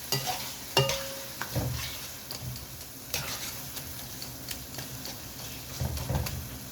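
Mutton pieces going into a pan of spice paste cooked down with a little water, giving a steady close sizzle with scattered crackles, stirring scrapes and soft ticking, no voices.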